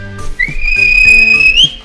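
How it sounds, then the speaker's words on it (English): A railway guard at a station in a Thomas the Tank Engine story gives one long, steady whistle blast of about a second over a soft rhythmic backing. "the guard whistled"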